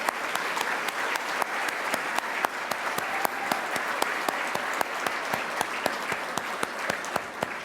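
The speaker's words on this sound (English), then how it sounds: "Please join me in a round of applause for our 2024 selection committee." A crowd at a business excellence awards event gives a steady round of applause, many hands clapping evenly with a few sharp individual claps standing out, continuous for several seconds.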